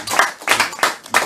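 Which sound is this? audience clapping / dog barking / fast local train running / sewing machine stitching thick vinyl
audience clapping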